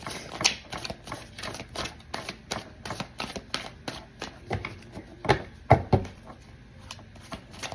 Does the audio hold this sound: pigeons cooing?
no